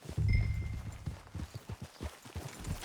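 Horse hooves in the video game Red Dead Redemption 2, a steady, close clip-clop rhythm of repeated hoofbeats on a town road after a loud opening thump, with no talk.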